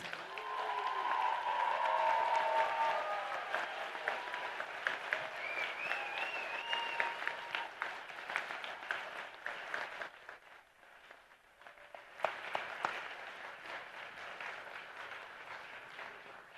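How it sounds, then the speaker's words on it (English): Sustained round of applause from a large commencement crowd honoring graduate students at a university graduation ceremony, dense and loud at first, then easing and dipping before rising again, with faint whistles and cheers mixed in. "Could we please have a round of applause for the graduate students?"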